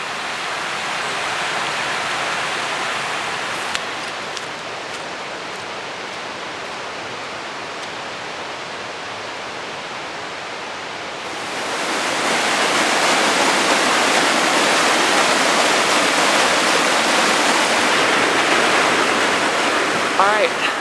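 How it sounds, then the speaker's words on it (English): Mountain waterfall and water running down the slopes on a hike, a steady broadband rush that swells noticeably louder and fuller partway through and stays constant, with no talking. "there's just so much water everywhere. Like it's all just kind of running down the mountain."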